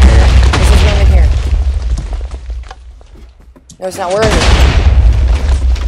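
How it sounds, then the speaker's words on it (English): Deep booming blasts of TNT going off in a Minecraft adventure map, heavy rumbling explosions that rise and fall twice under players talking back and forth. "You didn't hear the TNT go off?"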